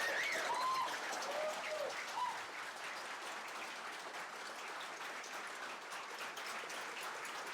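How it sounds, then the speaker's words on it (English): A room of attendees at the London Perl workshop gives a fairly faint, steady round of applause that runs evenly for the full length with no voices over it. "Give these guys a round of applause."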